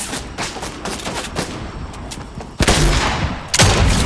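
Gunfire in Fortnite, a patter of quick distant shots followed by two loud, close, heavy blasts about a second apart.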